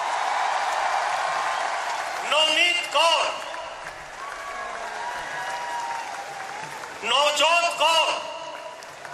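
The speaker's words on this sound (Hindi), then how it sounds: "तालियों से स्वागत करिए।" Crowd applauds Olympic women's hockey players at an honouring ceremony, a sustained wash of clapping filling the whole stretch beneath an announcer's amplified voice reading out names.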